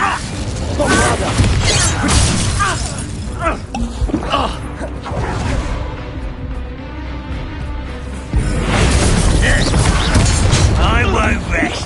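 A Bombarda blasting spell in Hogwarts Legacy goes off amid loud crashing and shattering debris, with mechanical clatter and a heavy renewed burst near the end, while a voice talks over the action.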